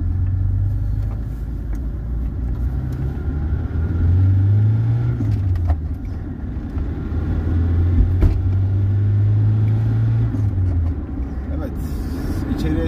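Inside a Hyundai Excel 1.5 GLS, the engine drones as a low rumble that climbs in pitch during acceleration, drops, then rises again, loud in the cabin and steady throughout.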